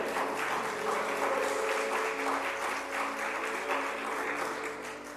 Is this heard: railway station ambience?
no